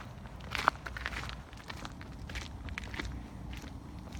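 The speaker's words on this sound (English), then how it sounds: "I can like hear my footsteps just brushing against the salt and then echoing around the property." Soft footsteps brush and crunch over salt on the ground outdoors, a quiet steady shuffle with a faint echo.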